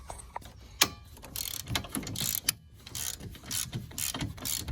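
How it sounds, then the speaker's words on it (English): A wrench turns a bolt near the winch on a Polaris RZR 900, with rapid ratchet clicks in short close bursts and brief metallic knocks between strokes. "What I have to do is actually just turn this and the wrench in there."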